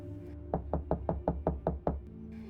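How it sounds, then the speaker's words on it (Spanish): Seven evenly spaced knocks strike a wooden door in a quick, steady rhythm, close and distinct against a quiet low hum, with no voices. "Los mismos golpes, más persistentes, volvieron a sonar en la puerta."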